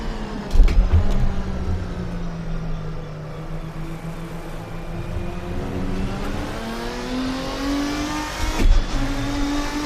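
A 7-liter GT race car engine in the sim racing game Assetto Corsa roars through repeated upshifts, pitch climbing steadily between brief gear-change dips, loud and close with no talk.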